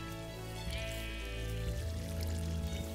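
Water flows in the Minecraft Blightfall video game, a soft, continuous pouring trickle heard quietly and alone over a steady background hum, with no talk.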